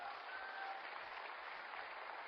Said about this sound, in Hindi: जोरदार ताली दोस्तों।